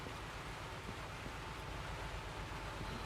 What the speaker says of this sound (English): now I get to listen to the sound of falling rain